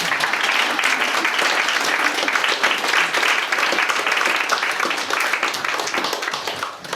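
A room full of people applauds steadily for several seconds, a dense, even wash of clapping that thins slightly toward the end, with no speech over it.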